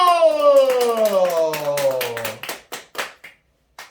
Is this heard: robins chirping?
no